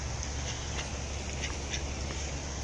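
Honking goose calls sound a few times over steady outdoor wind and rumbling background noise in a city park.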